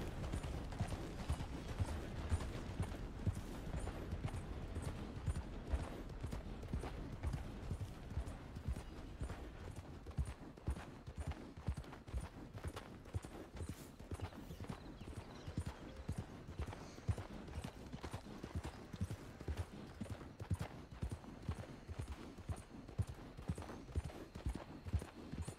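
Horse hooves clip-clop steadily while riding in Red Dead Redemption 2, a quick, even beat that runs unbroken and moderately close, with faint creaks of tack beneath.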